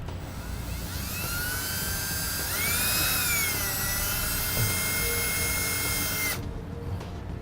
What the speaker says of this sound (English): I'm going to start it with a normal drill bit just as a pilot hole